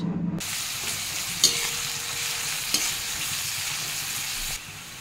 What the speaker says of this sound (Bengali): সর্ষের তেল গরম হয়ে গেলে এতে আমি দিয়ে দেবো কুচনো পেঁয়াজ।